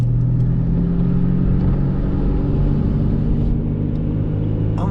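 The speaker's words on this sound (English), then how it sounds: "I'm gonna jump in my car." Car engine rumbling close by as the vehicle pulls away, a loud steady low drone with slight revving, outdoors in foggy woods, no talking.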